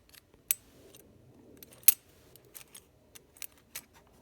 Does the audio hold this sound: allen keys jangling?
yes